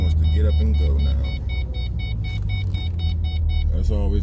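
Steady, loud low engine drone of a 2005 Ford Mustang GT running a Bama tune while cruising, heard from the cabin with a regular chime beeping over the rumble and a brief voice near the end.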